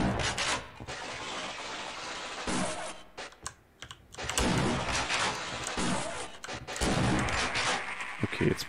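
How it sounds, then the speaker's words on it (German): Shotgun blasts in the first-person shooter Half-Life: Opposing Force, several sharp, loud bursts spread irregularly across the stretch, with short quiet gaps between them and no talk over them. "So zwei Schüsse auf jeden Fall."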